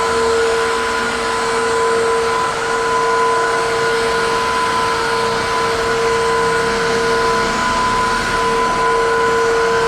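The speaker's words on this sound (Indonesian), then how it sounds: "vakum sekaligus ngepel" A Tineco iFloor Breeze wet-dry vacuum mop runs nearby with a loud, steady motor whine and constant airflow hum that stays unchanged throughout, with no voices.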